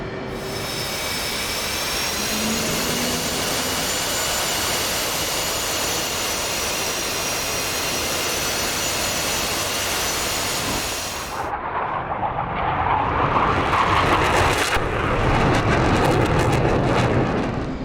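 A jet aircraft engine in the DCS World flight simulator roars steadily, with a high whine over a deep rumble, then the sound shifts into a harsher, louder roar as the aircraft takes off.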